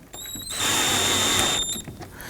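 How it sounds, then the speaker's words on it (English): A power tool briefly whirs to snug down a bolt on the rear bumper impact absorber of a 2018-2024 Toyota Camry, one steady, loud, close burst of about a second with no voices. "Go ahead and install your bolt here. We'll snug that down."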